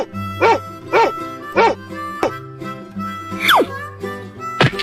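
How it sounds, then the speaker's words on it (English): A dog barks in repeated sharp bursts, about five evenly spaced barks, close and loud over a faint steady background tone, ending with a higher yelping cry. "dog"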